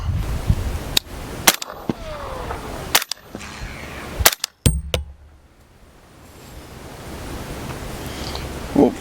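Suppressed gunshots through a Resilient Suppressors Simple Man suppressor, several sharp muffled reports spaced irregularly outdoors, loud and close, with quiet ambient noise between shots.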